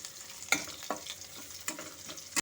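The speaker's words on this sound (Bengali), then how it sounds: "রসুনটা একটু ভাজা ভাজা করে নেব" Garlic frying in a pan over low to medium heat, a steady close sizzle broken by several sharp scraping stirs of a utensil against the pan, with no voices.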